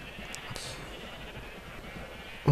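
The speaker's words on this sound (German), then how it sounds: "da drin dürften sich so an die 40 Schafe befinden" Sheep in Minecraft, about forty penned together in a breeding machine, give a few brief, faint bleats over a steady background hum.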